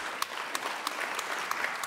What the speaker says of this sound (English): Jan Willem, a round of applause.